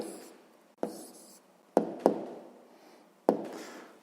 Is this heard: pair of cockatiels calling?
no